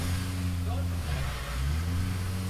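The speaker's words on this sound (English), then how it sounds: "No dial-ins, heads up drag racing." Heads-up drag race cars roar at Mason Dixon Dragway during the VW Nationals, their engines a loud, steady rumble that swells slightly as they accelerate, with an announcer talking over the noise.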